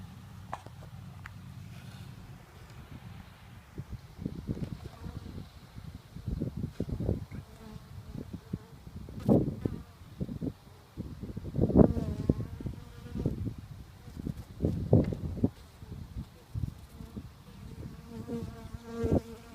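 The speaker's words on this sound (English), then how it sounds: "you can watch the bees come in" A steady, close buzzing of many bees around a hive entrance, swelling in bursts as individual insects fly near.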